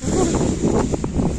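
Strong wind buffeting the microphone, a steady roaring rumble with faint, brief voice-like sounds underneath.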